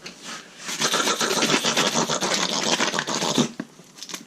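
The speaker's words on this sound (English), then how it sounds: "get a bit of sandpaper and clean it off" Sandpaper rubs briskly against a lawn mower spark plug to clean it, a close, dense scratching that runs for about three seconds before stopping abruptly.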